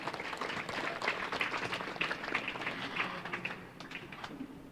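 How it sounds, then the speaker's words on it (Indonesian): A small audience at the opening of a World Cancer Day talk show claps, a moderately close patter of many hands that holds steady for a few seconds and then thins out and tapers away. "Tepuk tangan dulu untuk kita semua."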